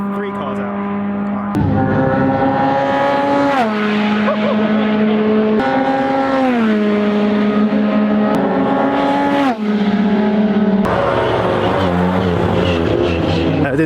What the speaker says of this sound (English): These are F3 cars out.